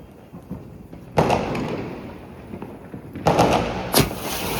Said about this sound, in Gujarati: ધાબા પર ફટાકડા ફોડવા આવ્યો